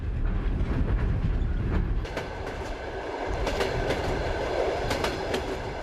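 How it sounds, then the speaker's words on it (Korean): The Trans-Siberian train rolls along the rails in Siberia, giving a continuous rumble with rhythmic clicking and clattering of the wheels, heard close and steady throughout. "여섯 번째 도시를 향해 열차는 20시간을 넘게 달리고 있다."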